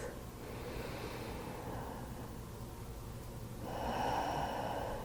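During a guided meditation, slow, deep breaths come in close to the microphone, soft and airy against a steady hiss, and the last breath is louder than the ones before it.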